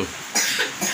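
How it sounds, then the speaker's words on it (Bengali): A young child coughs close by, two or three sharp bursts in quick succession within a second. "ওটা বেসম লাগার কাশি"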